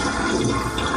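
A toilet flushes with a loud, steady rush of water through the bowl, filling the whole brief moment with no voices.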